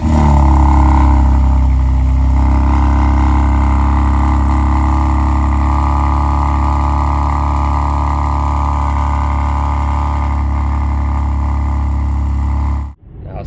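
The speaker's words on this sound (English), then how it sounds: "the first thing that I don't like about this car is the way that it sounds on a" A BMW X3M Competition's twin-turbo straight-six engine on a cold start, a loud, steady, droning high idle held for about thirteen seconds before cutting off abruptly.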